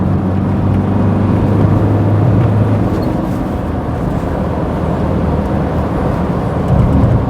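A Ford Escort Mk6 with a 1.8 turbodiesel engine accelerates under load, a loud, steady low engine drone with broad road and wind rumble, heard from inside the car throughout.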